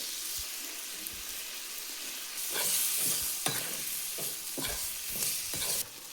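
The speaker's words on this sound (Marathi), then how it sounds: "कांदे मिक्स करून घेते" Onions being stirred into prawn fry in a pan with black masala, with a steady sizzle under a series of distinct scraping stir strokes at irregular intervals, close and clear, with no talking.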